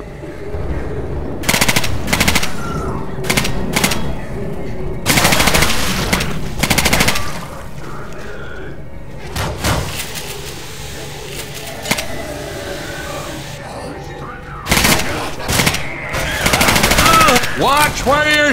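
Automatic gunfire in the zombie shooter Left 4 Dead 2, loud rattling bursts that stop and start across the clip, with wide crackling blasts between the volleys and a steady hum of background game noise and voices underneath.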